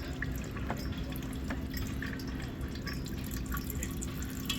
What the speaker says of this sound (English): And there's the cider coming out.